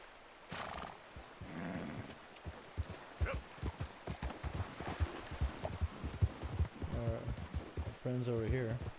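Horse hooves clip-clopping in the video game Red Dead Redemption 2, a run of irregular close thuds and clops with a snort or whinny near the end, mixed with game sounds.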